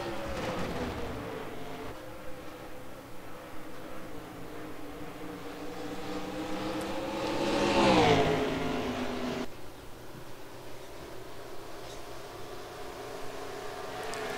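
Race cars in an online racing game at New Hampshire, a steady engine drone with a louder car sweeping past near the middle, rising and falling in pitch before the field noise settles back to a continuous hum.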